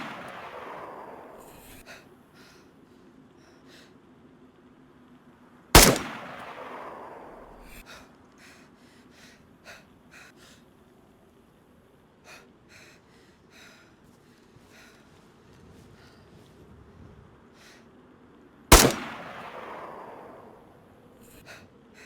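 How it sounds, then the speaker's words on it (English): Two sharp, loud rifle shots from the game DayZ, spaced about thirteen seconds apart, each with a long decaying echo over quiet outdoor ambience with faint breathing. "So I ended up taking quite a few shots at him"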